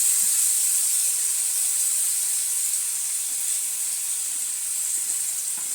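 Fish pieces frying in oil in a pan over a low gas flame, giving a steady, continuous high hiss and sizzle with faint small crackles underneath.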